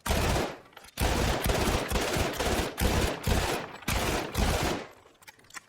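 Sustained automatic gunfire from Battlefield 1, loud and dense bursts with brief pauses between volleys, tailing off at the end.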